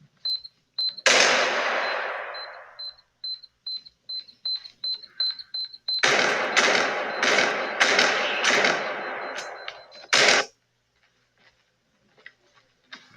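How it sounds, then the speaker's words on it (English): Gunfire rings out in the realistic first-person shooter Bodycam: sharp, clustered shots across a hallway, in two dense volleys with a faint tinny ringing between them and talk mixed in. "Oh, you're shooting across the hallway."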